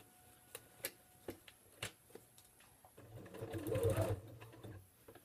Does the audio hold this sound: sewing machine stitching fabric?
yes